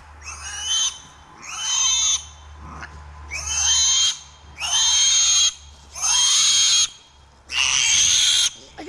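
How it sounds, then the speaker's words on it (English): A kunekune pig squeals loudly in about six shrill, harsh bursts with short pauses between them, over a low steady hum. "he's squealing like a pig."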